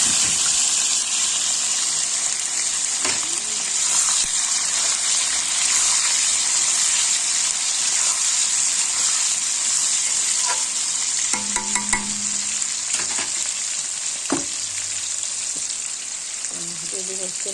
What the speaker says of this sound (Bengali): দিয়ে দেবো পেঁয়াজ, রসুন, টমেটো সব দিয়ে দেবো